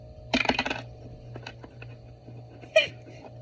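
Dice rattle and clatter across a surface in a quick burst during a book-reading selection game, followed by a second short clatter a couple of seconds later, close and fairly loud in a quiet room.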